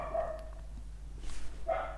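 A dog barking indoors, two short barks spaced apart, fairly faint and heard alone over a low steady hum.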